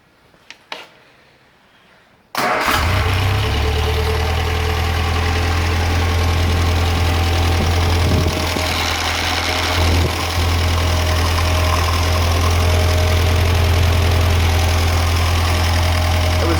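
A scrap engine bolted to a running stand idles loudly and steadily after firing up a couple of seconds in, its even rumble with a knocking edge continuing unbroken and close throughout.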